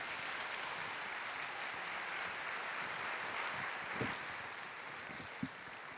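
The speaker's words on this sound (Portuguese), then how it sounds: "Se você quiser dar um aplauso ao Senhor," A church congregation applauds during a Sunday morning Easter service, a dense, steady wash of clapping from a crowd at middle distance that runs the whole time with a couple of sharper claps near the end.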